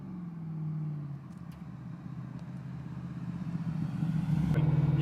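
A 1972 Chevrolet C10 restomod truck with a 418 cubic inch stroker V8 and a 2.9 Whipple supercharger and built 4L80 transmission drives past, its deep engine drone rising steadily and growing louder and nearer toward the end.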